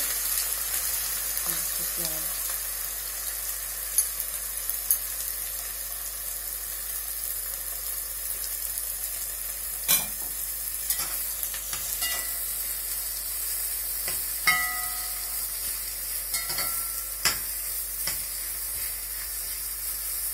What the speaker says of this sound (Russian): Масло накалилось. И мы сейчас опустим лук.